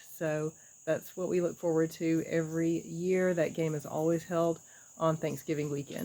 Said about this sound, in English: maybe you can hear all the cicadas humming and squealing around me